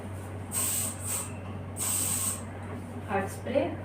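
Hair spray is applied during a traditional bridal hairstyling session in two bursts of close, loud hissing aerosol, each roughly half a second long, followed by someone speaking over a steady low electrical hum.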